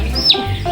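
A baby chick cheeping, one short high-pitched chirp close by with faint background voices.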